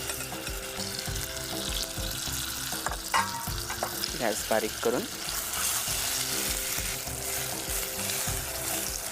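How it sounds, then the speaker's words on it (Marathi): Okra mixture, already seasoned with chilli and garlic, frying in oil with crisped curry leaves, sizzling steadily with occasional stirring scrapes, while a voice speaks briefly over it. "जे आपण मिश्रण भेंडीचं करून घेतलंय ते सगळं आपल्याला व्यवस्थित फ्राय करायचं"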